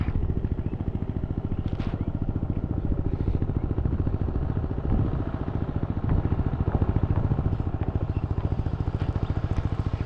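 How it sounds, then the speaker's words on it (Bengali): A power tiller ploughs a village field on a winter morning, its engine chugging in a steady, loud, rhythmic thump with a rattling clatter that holds even and continuous throughout. "পাওয়ার টিলার দিয়ে জমিতে হাল দেওয়া হচ্ছে"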